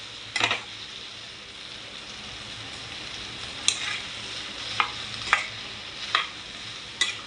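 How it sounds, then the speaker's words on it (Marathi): Okra stirred with onions and kokum in a pan over a low gas flame gives a soft, steady sizzle, broken by a few sharp spatula scrapes and clicks against the pan. "गॅस लो करून परतून घ्यायचे कांद्यामध्ये भेंडे भेंडी"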